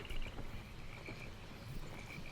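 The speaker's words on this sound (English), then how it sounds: "Does look like this spot's got some frogs, though." Frogs croak in the video game Albion Online, a faint, steady chorus of rhythmic trills over soft ambient background noise, and no one speaks.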